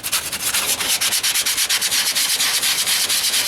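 Bondo filler on a 1998 Ford Ranger wheel arch is sanded by hand with 40 grit sandpaper, a loud, close, harsh scratching in quick rhythmic strokes, no voices.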